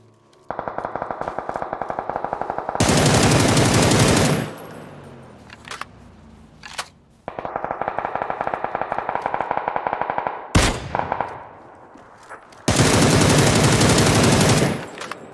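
Machine gun fire from the video game PUBG: rapid rattling bursts of automatic gunfire, loud and close, broken by several louder heavy blasts, with no talk over it.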